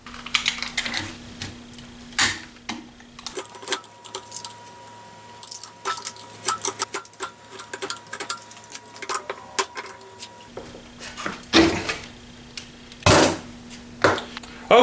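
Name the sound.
razor blade scraping composite shell off a ratchet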